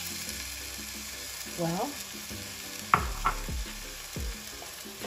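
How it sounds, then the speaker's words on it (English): Pumpkin and spinach cook in an Instant Pot with water, giving a soft steady sizzle and bubbling along with scraping and stirring clatters from a utensil. A brief spoken word is heard. "I want to cook this I want to cook the pumpkin and the spinach"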